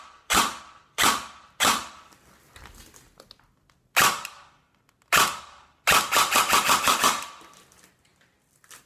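An airsoft replica with no magazine fires in semi-auto: several sharp, separate snapping shots spaced about a second apart, then a fast cluster of rapid shots, close and crisp with silence between.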